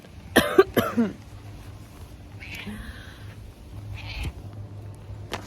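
A house cat gives a few short meows at close range, some soft and breathy, with quiet background noise between them.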